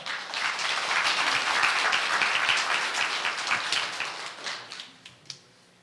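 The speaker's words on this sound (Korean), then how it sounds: "여러분 큰 박수로 맞으시길 바랍니다" Audience applause at a church festival greeting a violin soloist about to play Elgar's Salut d'Amour, dense clapping from a room full of people that builds, holds, then thins out into a few scattered final claps.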